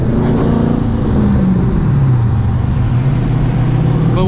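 A manual Dodge Challenger pulls hard through its gears, engine note loud and close, rising in pitch then dropping briefly at a shift before climbing again.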